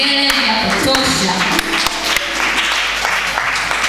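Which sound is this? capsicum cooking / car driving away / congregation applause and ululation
congregation applause and ululation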